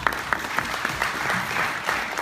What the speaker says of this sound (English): let's give all the speakers a round of applause